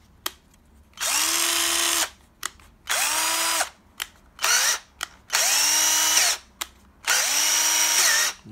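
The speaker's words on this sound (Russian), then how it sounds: "вот сам шуруповерт. Это реплика у нас." A replica cordless screwdriver spins up close in five separate runs of about one to two seconds each, whining and rising in pitch. Its trigger gives short clicks in the pauses between runs.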